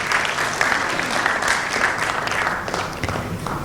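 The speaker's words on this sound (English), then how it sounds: "Let's give our applause of appreciation." Steady audience applause at a panel discussion on LNG supply and marketing, a dense clapping roar holding at even loudness from start to finish.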